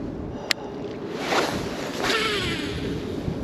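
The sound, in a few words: strong wind blowing while bass fishing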